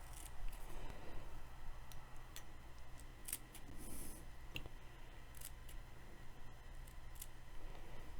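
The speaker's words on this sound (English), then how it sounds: "Now I'll trim a little bit of this off." Scissors trim fly-tying material for an olive green caddis nymph, giving a few faint, sharp snips scattered over a quiet, hissy background.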